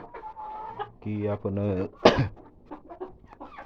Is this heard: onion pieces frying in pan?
no